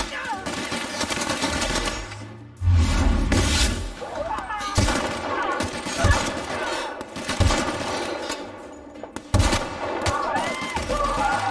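Rapid bursts of gunfire from a powerful weapon in the video game The Outer Worlds, loud, with repeated shots over game music and effects, a voice speaking over parts of it.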